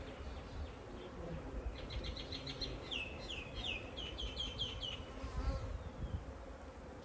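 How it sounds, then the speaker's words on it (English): Honey bees buzz in a top bar hive during an inspection, a steady close drone with rising whines as individual bees fly past, while chickens cluck faintly in the background. "Which is bees, but no comb."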